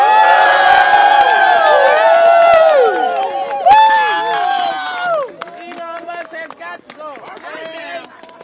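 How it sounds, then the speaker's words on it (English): A protest crowd rallying against PEPFAR AIDS-relief cuts erupts in loud whoops and cheers with some clapping, the voices rising and swooping before thinning into scattered shouts. "I want you all to give yourselves a big round of applause"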